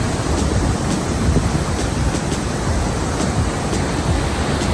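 Jog Falls plunging 830 feet, heard as a steady, dense roar of falling water that stays loud and even throughout, with no voices over it.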